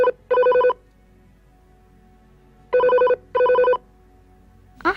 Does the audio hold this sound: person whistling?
no